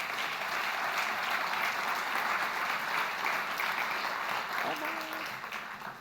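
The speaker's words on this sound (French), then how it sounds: "merci à tous les intervenants qu'on peut très chaleureusement remercier et applaudir" Steady applause from a conference audience at a plenary session on industrialization, sustained and fairly even at moderate volume, easing off toward the end as a faint voice briefly emerges.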